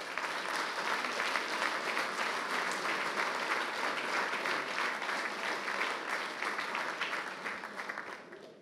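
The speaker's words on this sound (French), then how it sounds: "Je crois qu'on peut les applaudir." A ceremony audience applauds during an awards evening, with sustained, even clapping from a large crowd that holds steady and tapers off slightly at the end.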